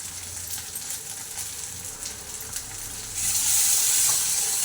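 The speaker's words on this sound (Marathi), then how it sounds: "त्याच्यानंतर टाकत आहोत टोमॅटो" Tomatoes go into a hot pan with garlic paste and start sautéing, a mild sizzle that turns into a louder, brighter hiss after a few seconds, close by with no speech.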